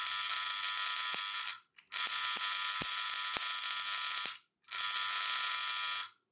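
An induction coil's contacts buzz loudly and continuously in three long bursts separated by brief pauses, with sharp sparking crackles scattered through the buzz.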